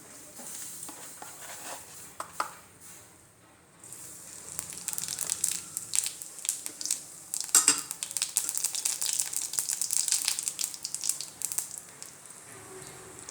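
Cumin seeds frying in hot oil give off a steady crackle and sizzle with small pops, quiet at first and then busier and denser as the seeds hit the pan.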